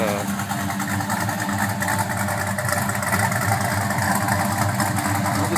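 A 1969 Plymouth Road Runner muscle car with a 512 stroker engine idles with a deep, rumbling exhaust burble, steady and close, with a slightly lumpy rhythm throughout.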